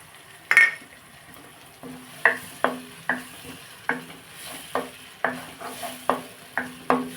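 Tomato and cashew paste is stirred into softened onions in a pan for liver curry, with a faint sizzle under a steady run of light spoon taps and scrapes against the metal.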